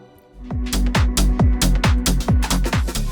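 Layered synth arpeggiators from Synthmaster and Diva plugins over punchy electronic beats, a bright, pulsing sequence of rapid notes with thumping regular kicks, loud and dense throughout, no voices.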